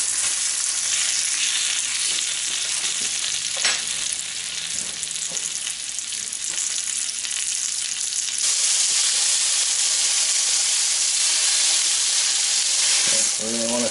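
Chicken cutlets frying in a pan, a loud, dense and unbroken sizzle close up with a few faint clicks, steady throughout.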